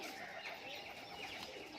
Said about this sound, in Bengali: হেভি হেভি কোয়ালিটির পায়রা রয়েছে